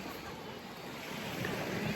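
Black Sea waves washing onto a beach at Chornomorsk, a faint, steady broadband wash that swells slightly near the end, with no talk.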